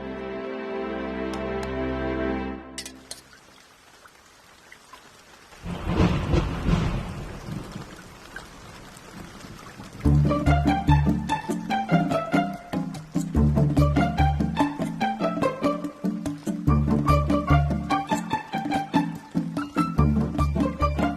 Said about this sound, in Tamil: மழை வேற இப்படி பெய்யுதே